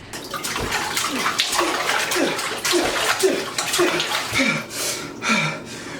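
The Aqua Laguna tidal wave in the One Piece anime, heard as loud, continuous rushing and churning water that surges throughout.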